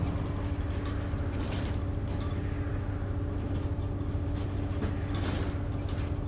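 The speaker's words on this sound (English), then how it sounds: "So we've got a train." A train rumbles past in the Bus Simulator 18 video game, a continuous heavy rolling drone with steady low hum and faint metallic squeals, moderately loud and without talk.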